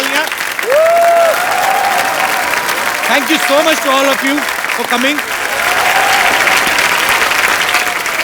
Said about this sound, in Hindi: एक बार डैडी की पूरी कास्ट के लिए जोरदार तालियां